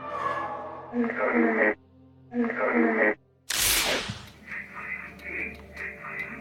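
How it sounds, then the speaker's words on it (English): An electronic voice phenomena recording plays as two bursts of muffled, radio-like voice through static, separated by silence. A sharp whooshing swish follows, then faint buzzing, crackly noise. "This is known as the electronic voice phenomena, or EVP"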